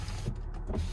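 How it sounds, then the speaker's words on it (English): Power windows on a used car at an auction lot hum briefly as they move, a faint, close motor whine with a light creak and no talking. "Windows."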